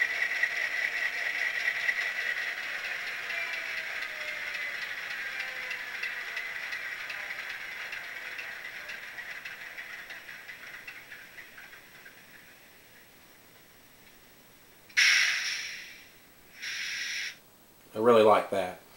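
An Athearn Genesis GP9 model locomotive with a Soundtraxx Tsunami decoder runs through its shutdown sound: a steady diesel hum that gradually fades out to near silence, followed by a few short, loud bursts of clanks and hisses.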